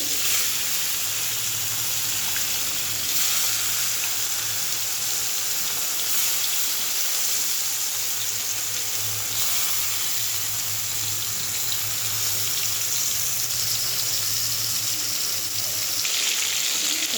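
Fish frying in hot oil that has been salted, a steady, dense sizzle and crackle running close and unbroken throughout, with no talk over it.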